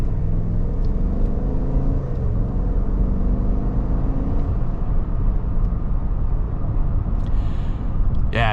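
Steady low road rumble and tire noise inside a 2025 Chevrolet Tahoe Premier with a 10-speed automatic cruising on a two-lane highway, faint engine hum with a slight rise early on, continuous and even.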